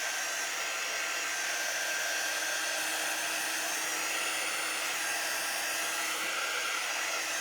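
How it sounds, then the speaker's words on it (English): A hair dryer blows over a chalk surface to dry it. The motor and air give a loud, steady whooshing whine that runs unbroken and up close throughout, with no talk. "I'm going to quickly dry my chalk surface here"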